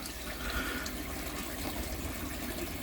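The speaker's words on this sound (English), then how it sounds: "Now you can see there, my water coming into my pond." Water pouring steadily into a garden fish pond, a continuous soft splashing and trickle that stays faint and even throughout, with no voices.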